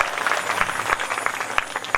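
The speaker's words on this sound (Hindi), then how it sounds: "आप ताली बजा दें" Brief burst of audience clapping at a Ram Katha religious gathering in Haryana, with dense overlapping hand claps and a few sharper individual claps, close and lively, with no speech.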